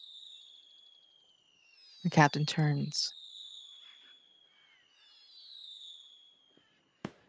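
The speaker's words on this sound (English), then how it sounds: "In the distance, you hear fireworks." Fireworks play as a sound effect during a tabletop roleplaying game, faint distant whistles and crackles with a sharp pop near the end, while someone speaks briefly in the middle.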